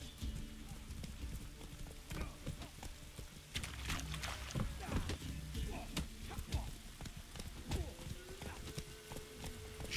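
Horses' hooves clip-clopping in The Witcher 3, a quiet patter of hoofbeats beside a village barn, soft and steady against a low background hum, with no voices.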